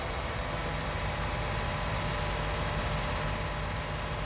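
In Farming Simulator 19, a tractor engine drones as a steady, even hum with no breaks, heard alone and at moderate level with no talk over it.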